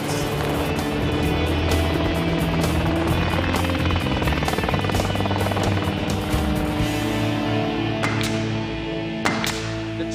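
Loud, continuous engine and rotor drone heard from inside a helicopter in flight, steady with a deep rhythmic hum throughout.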